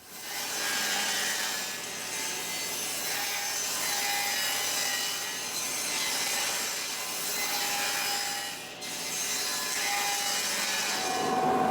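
A power saw rips wood strips for a garden obelisk, making a continuous bright, rasping cutting whine that dips briefly between passes and then resumes, close and fairly loud, with no talking.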